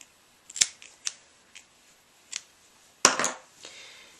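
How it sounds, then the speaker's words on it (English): Scissors snip through embroidery floss and yarn after a knot is tied on a felt craft project, giving several crisp, close snips spaced apart and a louder double cut near the end, with no talk. "And then you can cut your floss, and you can also cut your yarn."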